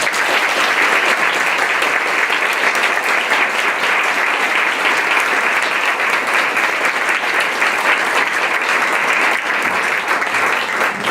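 Sustained, loud applause from a lecture audience welcoming Judge Kermit Lipez at a 2016 Constitution Day lecture, steady and even throughout with no break.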